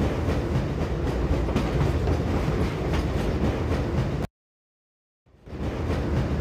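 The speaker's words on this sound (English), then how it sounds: "This train is inbound from Level 3 dormitories to Sector C test labs and control facilities." The Black Mesa tram train from the Half-Life video game rolls along with a dense, steady rumble and clatter that cuts to total silence for about a second, then fades back in.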